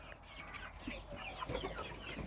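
Chickens kept for eggs clucking nearby in short, scattered calls over a steady outdoor background hum, with no voices.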